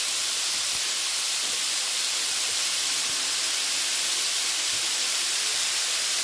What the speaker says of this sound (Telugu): గోల్డెన్ బ్రౌన్ కలర్ వచ్చేదాకా వేయించుకోవాలి ఫ్రెండ్స్.